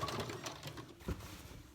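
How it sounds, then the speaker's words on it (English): A sewing machine runs steadily while stitching a hem on a Minion costume dress, a faint, continuous rapid rattle with a brief thump near the end. "you just take it over to your sewing machine"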